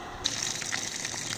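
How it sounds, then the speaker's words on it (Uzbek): Water gushes steadily from an outdoor tap, a continuous hissing rush that stays even and moderately loud from start to finish. "Mana bu yerda ham chiqyapti suv."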